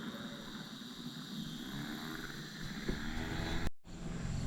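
A motorboat pulls away across a lake, its engine a steady distant drone under gusting wind noise, ending in a brief cutout.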